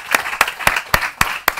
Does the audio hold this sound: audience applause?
yes